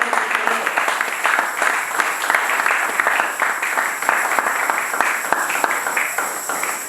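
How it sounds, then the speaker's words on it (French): A church congregation applauds continuously, a dense, steady wash of many hands clapping close and fairly loud. "Acclamons pour ces hommes de Dieu"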